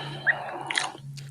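Close, wet chewing and biting noises with a few crunchy smacks, short and irregular, over a low steady hum.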